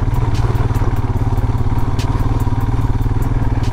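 Motorcycle on a road trip through Bosnia, its engine chugging steadily at low revs while riding over big loose rocks, with repeated clattering knocks from the stones and the bike jolting throughout.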